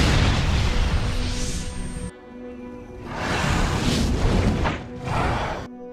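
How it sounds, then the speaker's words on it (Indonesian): Deep booming bomb blasts and rumbling bursts with whooshing debris from the film Ghost Rider, loud and cinematic, surging in several waves. "saat ada bom yang meledak"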